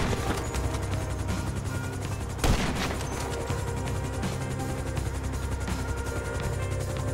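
Sniper rifle fire in GTA V amid a continuous game battle soundscape, with one sharp loud shot standing out from the steady din of distant gunfire.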